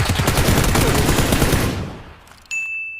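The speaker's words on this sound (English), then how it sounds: "And they're shooting at each other over there." Rapid bursts of automatic gunfire in the battle royale game PUBG on Xbox One X rattle loudly for a couple of seconds, then fade out, followed by a faint high electronic tone.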